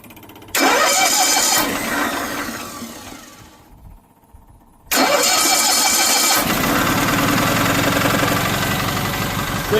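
A small engine, freshly fitted with a new carburetor, points and condenser and retimed, cranks and fires, falters into a brief lull, then restarts and settles into a loud, steady run, heard close up with no talking.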